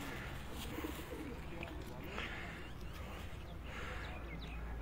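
Pigeons coo softly on a snowy rooftop in Abbottabad, the faint calls recurring amid low background noise and a murmur of nearby talk.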